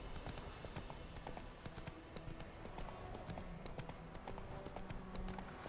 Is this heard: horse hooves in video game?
yes